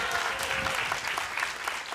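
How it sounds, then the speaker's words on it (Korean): Dense, continuous applause fills a studio where an audience greets a speaker at a televised economics talk, a steady crowd of many hands at even loudness for the whole stretch, with faint speech beneath. "너무 박수를 크게 쳐주셔서 매우 떨립니다"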